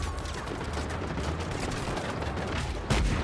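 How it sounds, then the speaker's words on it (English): Dense, continuous enemy gunfire in Just Cause 3, a loud crackling wash of overlapping shots with a heavier thump near the end, no talking. "At least they're all shooting me now."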